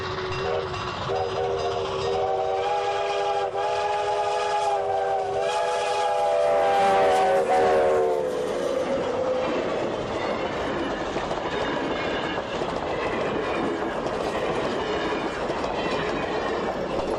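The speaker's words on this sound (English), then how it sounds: "this gives a great collection of railway sound effects" A train rumbles past close by, its loud whistle sounding for several seconds over the rolling clatter of wheels on rails, then fading into a steady clickety-clack.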